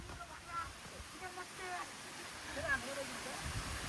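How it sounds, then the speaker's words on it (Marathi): Waterfall on a rainy mountain trail to Bhimashankar, a steady soft broadband rush heard from some distance, with faint voices and chirps over it. "हा लावरचा लास्टचा धबधबा आहे"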